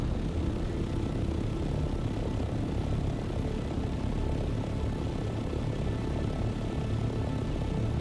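An ornithopter in the Dune: Awakening video game flies with a steady, dense engine drone and rumble that stays even and unbroken throughout, with no voices.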